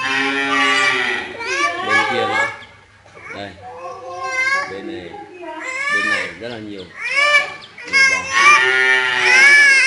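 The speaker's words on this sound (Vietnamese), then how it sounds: "Đây là con bò 3B." Ba Vì 3B beef cattle on a farm low repeatedly in long drawn-out moos, several overlapping calls rising and falling over about ten seconds, loud and close.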